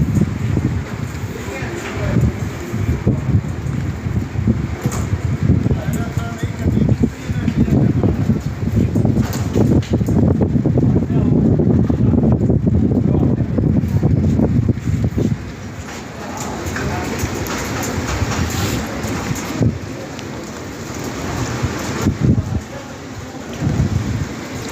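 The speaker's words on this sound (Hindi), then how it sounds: "हवा भी बहुत तेज़ चल रही है।" Heavy rain and strong wind roar outdoors near a hospital during a thunderstorm, a steady dense wash with gusts buffeting the microphone, fading somewhat later, while someone speaks over it.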